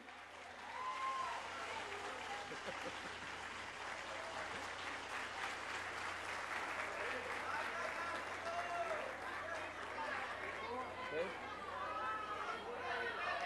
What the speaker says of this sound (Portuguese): a salva de palmas eu agora vou usar aqui